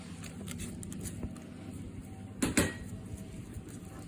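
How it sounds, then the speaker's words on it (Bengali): A pan of scrambled egg lifted off a stove burner, a brief metallic clatter and scrape midway through against a quiet, low kitchen hum. "আমরা এখন চুলা থেকে সরাই ফেলবো।"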